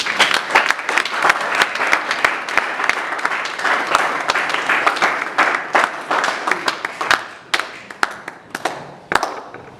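Church congregation applauding during a sermon, sustained dense clapping across the whole stretch with sharper individual claps standing out, fairly loud and close, with no talking over it.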